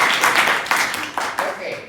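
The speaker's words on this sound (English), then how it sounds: "so let's applaud this group" Classroom audience at a TESOL microteaching session in Angren claps for a group in a short burst, a few sharp, close claps over a softer spread of applause that fades toward the end.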